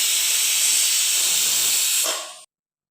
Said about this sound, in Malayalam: കുക്കറിൽ അടച്ചു വെച്ച് വേവിക്കാവുന്നതാണ് രണ്ടോ മൂന്നോ വിസിൽ മതിയാവും